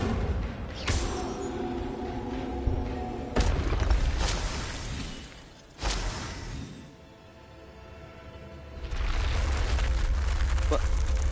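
A fire spell cast in Hogwarts Legacy sounds as loud bursts and booming whooshes, with sharp onsets around one, three and a half and six seconds over a continuous game score and effects, and a voice speaking in places.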